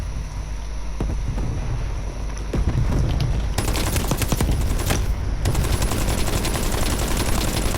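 Sustained automatic weapon fire in Call of Duty Black Ops Cold War, a steady roar of shots that grows denser and louder partway through, with heavy rumbling underneath and no voices.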